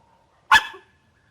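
A single sharp bark from a female dog on command during training rings out close by, loud and brief, following near silence.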